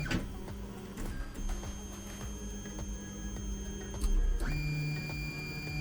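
A used 3D printer bought as broken from eBay runs steadily, with whirring stepper-motor tones, ticks and a louder pitch shift near the end, no talking.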